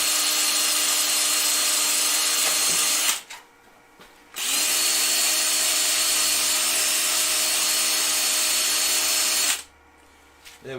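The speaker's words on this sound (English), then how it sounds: "So now all I'm going to do is sand that peg off." A wooden peg is sanded off with 80 grit sandpaper on a spinning lathe, a loud, steady, high whirring hiss that runs continuously, briefly drops out twice, then resumes close by.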